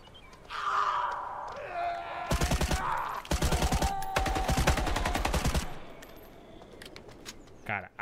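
Automatic gunfire in the video game The Day Before, with several loud bursts of rapid shots in quick succession, rising over quieter ambient game sounds and a faint earlier tone.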